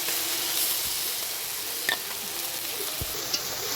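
Soaked sago pearls frying in ghee for sabu laddoo: a dense, even hiss of sizzling fat held throughout, with a couple of faint stirring clicks.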